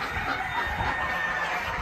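Chickens cluck and crow without a break at a crowded poultry market, a dense, steady wash of fowl calls at close range.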